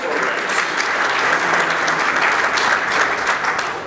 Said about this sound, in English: Joining me in a round of applause for the seniors for the men's and women's tennis programs.